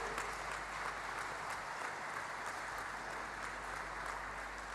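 Steady applause from an audience at a fertilizer plant inauguration, continuous clapping from many hands held at an even level throughout, with no speech over it.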